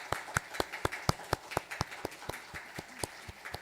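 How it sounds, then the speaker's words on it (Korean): Church members at a Wednesday prayer meeting clap for a deaconess, a fairly quiet, even series of about fifteen distinct claps in a steady rhythm, with no talk over them. "우리 최진경 집사님 우리 나오실 때 우리 격려의 박수 할까요?"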